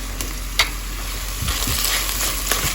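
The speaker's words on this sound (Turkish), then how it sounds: "Biraz da salça kavrulsun." Steady frying sizzle of pepper paste in a pot, with a few light scrapes and clinks of stirring, close and continuous without talk.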